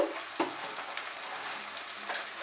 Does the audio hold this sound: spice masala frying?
yes